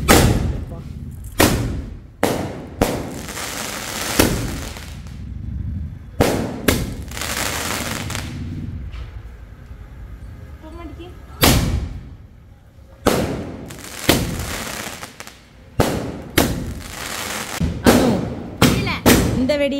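Firecrackers going off during a New Year celebration, a series of sharp, loud bangs at irregular intervals, some in quick pairs, with people talking quietly between blasts.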